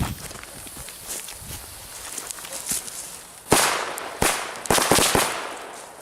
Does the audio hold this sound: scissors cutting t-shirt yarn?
no